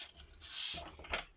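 Paper being scored along fold lines for a Valentine's twist pop-up card, giving soft close-up rubbing and scraping strokes in a few short passes, with no talking.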